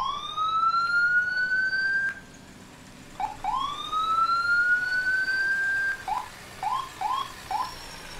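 An ambulance siren in the EmergeNYC video game wails in long rising sweeps, then switches to a series of short, quick yelps, loud and close.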